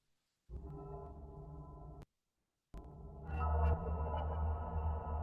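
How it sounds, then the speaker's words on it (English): A synthesizer tone is sent through a convolution reverb loaded with a Taj Mahal impulse response in Serum 2. A sustained drone cuts out briefly, then returns with a wider, shimmering reverberant wash that swells and brightens. "Let's put on a convolution reverb with a Taj Mahal impulse"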